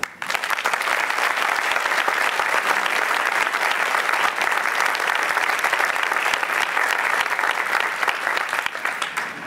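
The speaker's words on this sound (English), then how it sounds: "We'd like to give one more round of applause to all of today's award recipients" Audience applause for award recipients at a 2018 class ceremony, a dense, steady wash of many hands clapping that holds loud and even for nearly ten seconds, with no voices on top.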